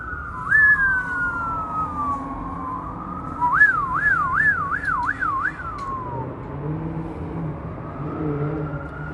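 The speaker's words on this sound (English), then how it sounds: "I hear other sirens in the back." Emergency vehicle sirens in Denver at night: a distant wail sweeps up, then settles into a rapid yelping warble before fading, over low city traffic rumble.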